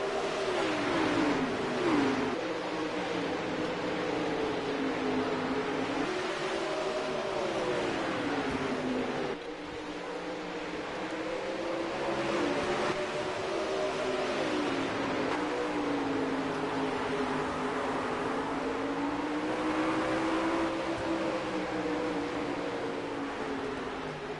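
Sprint cars racing at Willow Creek and Knoxville: a steady, loud engine drone whose pitch rises and falls in long sweeps as the cars circle, continuous and near, with no talk.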